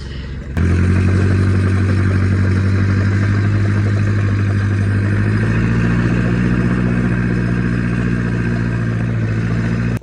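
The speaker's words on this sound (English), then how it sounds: "Give it just a little shot of ether, and then just crank it over here." A bus engine, primed with a shot of ether, catches after cranking and settles into a loud, steady close-up idle with a deep rumble and slight clatter, running alone without talk.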